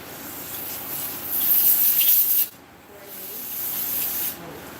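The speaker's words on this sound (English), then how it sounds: "lots and lots of ink buildup and such coming through this airbrush" A Paasche H airbrush sprays ink in a loud, steady airy hiss that cuts off for a moment and then resumes. There is no speech.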